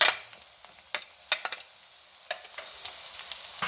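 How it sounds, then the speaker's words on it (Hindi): Chillies hit light golden onions in a hot pan, giving a bright sizzle broken by several sharp scrapes and clicks of stirring, close and with no talking. "हमारे प्याज में लाइट गोल्डन हो गए, तो अब मैं इसके अंदर मिर्ची ऐड कर रही हूँ"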